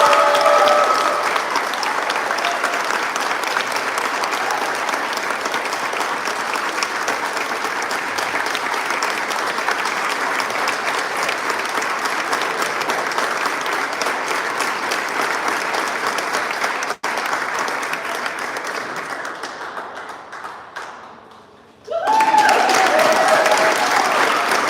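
A large audience applauds for the 2023 Maine County Teacher of the Year, a thick, sustained wash of clapping that slowly fades near the end before a loud burst of sound returns.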